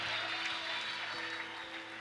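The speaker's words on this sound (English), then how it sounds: "let's clap our hands" Audience applause at a youth conference couples session, a steady dense wash of clapping throughout, with faint tonal hum underneath and no clear voices.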